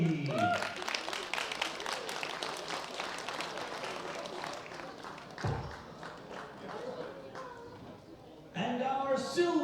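Audience applause for the bronze medalist at a junior men's world bench press championship, a sustained mid-level burst of clapping from a crowd filling the hall, with an announcer's voice over it near the end.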